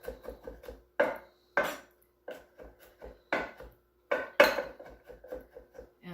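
Garlic is chopped roughly on a board with a knife, in close, crisp taps that come in quick clusters, some louder thuds mixed in, with short pauses between bursts.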